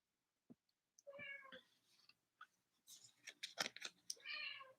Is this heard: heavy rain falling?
no